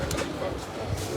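Pigeons, a high-class Toly Walay breed, coo with soft low throaty calls in a continuous murmur while someone speaks over them.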